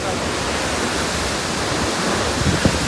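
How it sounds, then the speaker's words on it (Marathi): Kelavali waterfall roaring as a steady, loud, broadband rush of falling water close by, unbroken throughout with a slight surge near the end. "तर बघू शकता धबधबा."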